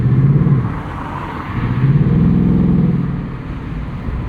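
A 2024 Ford Mustang GT exhaust in track mode while driving: a loud, deep V8 rumble that swells and eases in waves, close and steady throughout.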